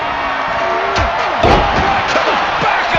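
Wrestling arena crowd roaring and cheering steadily throughout, a dense wall of voices with brief swells and shouts rising above it.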